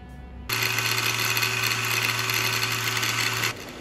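Nagawa CG100U cordless battery angle grinder runs at high speed for about three seconds with a steady, loud whine and motor hum, starting and stopping abruptly, with no talk.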